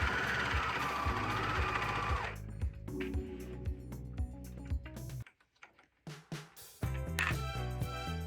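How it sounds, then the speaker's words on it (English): A serger stitching a T-shirt seam, rapid mechanical chatter running in bursts that stop and restart, with a brief quiet gap between runs; close and fairly loud, no talking. "keep serging an inch or so"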